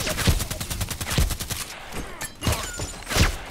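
Sniper rifle fire in a video game, with repeated loud sharp gunshot bursts and echoing reports across the stretch, a few heavier blasts standing out near the end.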